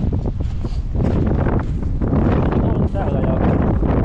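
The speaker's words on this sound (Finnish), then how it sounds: "Tänään onkin tuulta." Strong wind blowing outdoors in a village, gusting steadily and buffeting the microphone loudly throughout, with a person talking underneath.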